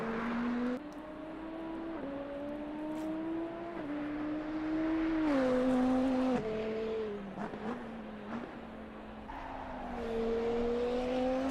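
A GT2 KTM race car in a racing video game's 24-hour Nordschleife endurance race, its engine dropping down through the gears. Loud, steady engine drone falls in several distinct downshift steps, each followed by a rising rev.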